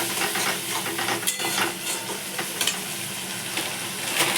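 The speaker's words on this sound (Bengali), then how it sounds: "ভালো করে নেড়ে ছেড়ে নেবো।" Spice paste with onions frying and being stirred in a pan for a parshe fish curry: a constant bright sizzle with scattered scrapes and clinks of the spatula, close and with no talking.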